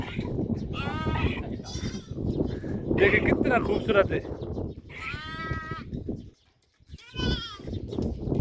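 Goats bleat loudly several times in a village animal pen, wavering calls recurring between stretches of someone talking close by, with light wind noise on the microphone.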